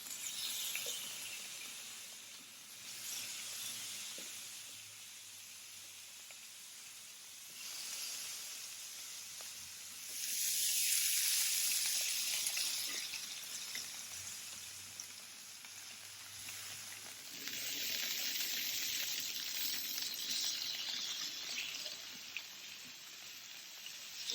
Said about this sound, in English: Today we're cooking some flank steak and some lamb chops.